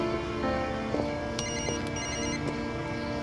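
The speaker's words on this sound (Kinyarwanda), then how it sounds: "umva reka nitabe telefone." A telephone ringtone trills faintly in two short repeated electronic bursts, sitting under a dense, noisy background indoors, with no voices.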